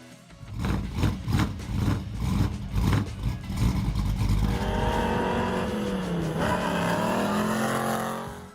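A 1969 Ford Mustang Boss 429 engine, first revving in rhythmic loud bursts, then settling into a sustained roar that swells and falls, close by and with no talk.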